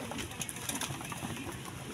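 Soft pigeon coos sound close by over a steady noisy background, with faint rustling and no talking.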